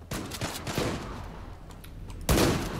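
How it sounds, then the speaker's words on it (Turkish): Gunfire in the shooter game Zula: several close, punchy shots land in quick succession, then a lull of softer noise, and a loud burst closes the clip. "Ben de sıkıyorum o da sıkıyor o beni öldürüyor."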